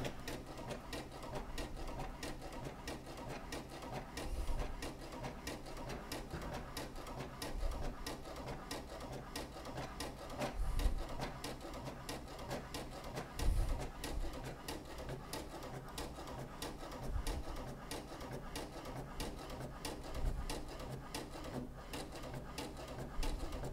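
HP Deskjet 2700e inkjet printer printing a document: a continuous mechanical whirr with rapid ticking from the print head and soft periodic thumps as the paper advances, close by with no talk.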